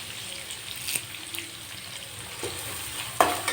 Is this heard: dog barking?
no